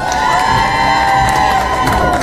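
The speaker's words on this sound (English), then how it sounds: "Give a round of applause." An audience at a live Avengers: Infinity War premiere preview event cheers and applauds loudly, a dense roar of shouts, whoops and clapping throughout.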